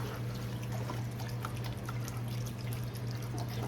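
Chicken broth pours steadily into a cooking pot, making a continuous liquid gush with a low, even rumble and no break in the flow.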